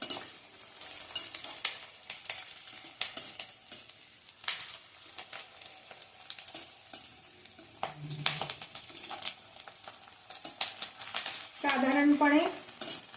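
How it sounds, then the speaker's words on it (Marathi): Onions fry in a pan on a high gas flame while a spoon stirs and scrapes them, producing intermittent clatters and a soft sizzle in close, moderately quiet bursts. "10 मिनिटं आपण हे सतत हलवत परतून घेणार आहे."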